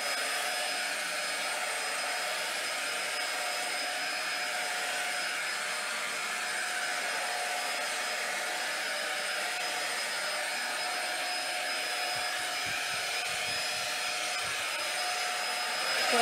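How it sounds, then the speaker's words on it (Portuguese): A vacuum cleaner runs steadily on a kitchen floor, a continuous whining drone with a constant high tone that holds at even loudness throughout, with a few low bumps near the end. "E aí vou passar o aspirador primeiro."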